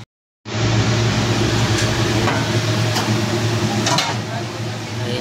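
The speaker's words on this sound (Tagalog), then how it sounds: "kulo na yung ating sinigang" Pork sinigang boils in a covered pot with a loud, steady bubbling rush that starts abruptly and holds evenly, with faint talk over it.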